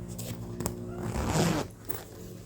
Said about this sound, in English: front zip pocket